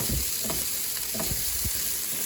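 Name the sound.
fried rice with egg stirred and sizzling in a pan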